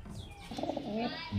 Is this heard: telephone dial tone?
no